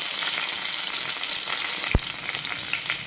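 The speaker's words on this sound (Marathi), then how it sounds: "मोहरी तडतडू लागली आहे." Mustard seeds, cumin, green chillies and curry leaves crackle in hot oil for a wild-leaf bhaji, a dense continuous frying hiss close by with one sharp pop midway and no voices.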